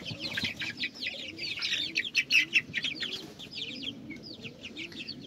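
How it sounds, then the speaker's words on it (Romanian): Chickens and a young rooster in a poultry flock, with busy overlapping clucks and chirpy calls, close and moderately loud, in rapid irregular bursts throughout. "Iată un cocoș aici"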